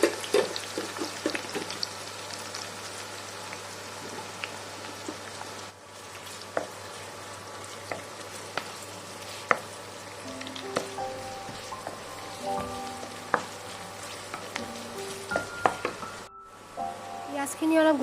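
Onions sizzle in a hot pan in a home kitchen, a steady close crackle and hiss with scattered pops and a faint tonal hum running underneath for the whole stretch.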